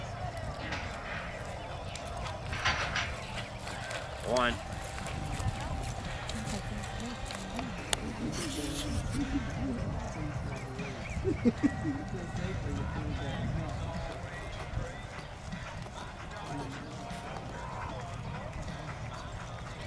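Horse hooves clip-clopping in an arena during a limited non-pro boxing run, a steady rhythm of hoof falls under frequent nearby talk and background noise.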